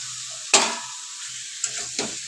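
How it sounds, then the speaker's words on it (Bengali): Fried potato and pointed gourd being stir-fried in spice masala, a few sharp spoon scrapes and clatters over a faint steady sizzle, close and fairly quiet. "আলুটা পটলটা দিয়ে আরেকটু আমি কষিয়ে নেব"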